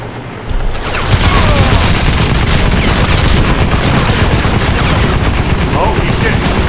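Heavy, rapid gunfire pounds the rear armor of a vehicle in Crysis Remastered, beginning after a brief quiet moment and continuing as a loud, dense, continuous barrage with explosive booms.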